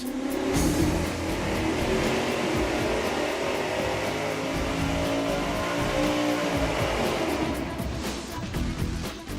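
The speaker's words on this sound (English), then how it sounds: "The last set of mufflers we're gonna test here are the Flowmasters" A 1,000-horsepower engine roars continuously on a dyno through Flowmaster mufflers with offset inlets and outlets, loud and sustained at high revs across the whole stretch.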